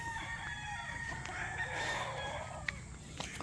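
A white Boston rooster crows outdoors, its drawn-out call rising over a soft background hum, with a couple of sharp clicks near the end.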